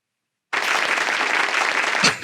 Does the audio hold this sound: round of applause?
yes